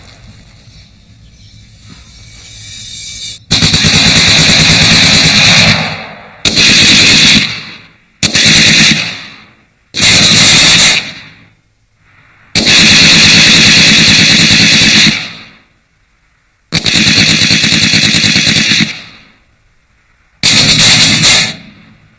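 Loud bursts of automatic gunfire from a hand-cranked historic machine gun of the British imperial era, seven sustained rattling volleys of a few seconds each separated by short pauses, with no talking.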